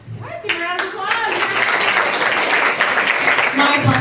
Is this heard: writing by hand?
no